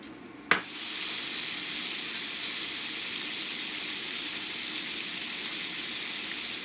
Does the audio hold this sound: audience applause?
no